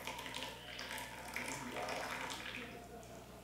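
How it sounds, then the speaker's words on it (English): A thin, controlled stream of water poured from a gooseneck kettle for gong fu tea brewing, a steady soft splashing trickle that runs continuously from start to end at moderate closeness. "You can pour in a very controlled, small way. This is almost like a gooseneck waterfall."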